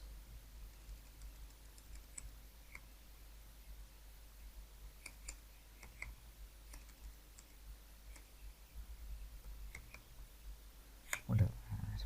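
Sparse, faint keystrokes and clicks on a computer keyboard as an admin login password is typed, scattered irregular taps over a low steady hum, a few louder at the end.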